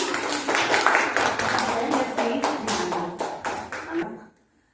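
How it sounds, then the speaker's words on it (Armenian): A group of children applaud a classmate's group in a school lesson, a steady patter of many small hands clapping at close range for about four seconds before stopping abruptly. "ծափարում ենք այս խմբի"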